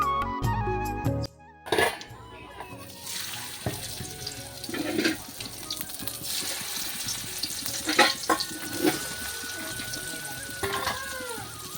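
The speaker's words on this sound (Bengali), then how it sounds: "ওই কড়াটিতে শীতলগুলো মানে যে বড়াটা করে নিচ্ছি" Shidol fritters with ash gourd leaves fry in a wok, giving a continuous bubbling sizzle under scattered clinks and scraping from utensils, after a brief sharper sound at the start.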